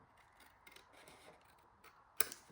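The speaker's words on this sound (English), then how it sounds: "I'm just going to use my scissors. I'm going to cut that." Scissors cut through 6x6 patterned craft paper for a small pocket ephemera holder, giving a few faint, close snips that end in one crisp, louder cut.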